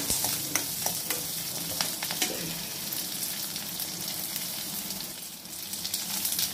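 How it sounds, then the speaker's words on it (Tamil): Onions and curry leaves sauté in a pan with a continuous crackling sizzle, punctuated by sharp stirring taps early on; moderately close, with no talk. "போட்டு நல்லா வெங்காயத்தை கொஞ்சம் நல்லா வதக்கி விடணும்."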